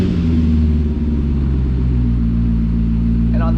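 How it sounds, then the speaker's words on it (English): A 2013 Corvette Grand Sport Collector Edition, a 60th-anniversary C6 4LT, cold-starts into a loud, steady, deep idle rumble close by, holding an even drone throughout. "Let's hear this cold start."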